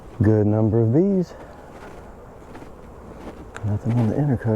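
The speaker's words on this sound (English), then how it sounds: "Good number of bees." Honey bees buzz around a nuc hive being installed in late summer, a steady close hum running beneath a voice, which speaks briefly at the start and again at the end.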